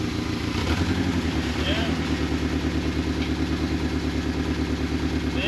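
A 1983 Turbo Coupe engine runs with a steady, rhythmic pulsing idle-like beat while being shifted through the gears after sitting 20 years, close and continuous, with a brief voice over it.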